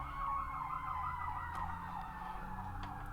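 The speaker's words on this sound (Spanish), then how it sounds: "no sé si escuchan la sirena, pero ahora yo escucho muchísimas sirenas" Emergency sirens wail outside at a distance, a steady warbling tone sweeping up and down over low traffic rumble, faint and continuous with no speech.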